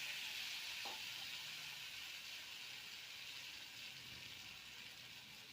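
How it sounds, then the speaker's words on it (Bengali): Mustard-poppy paste hits potatoes and onions already frying in a pan for a spicy fish chachhori: a faint, even sizzle and hiss runs throughout, heard alone without voices. "এবার সর্ষে পোস্ত বাটাটা ওই আলু আর পেঁয়াজ ভাজার মধ্যে দিয়ে দিলাম"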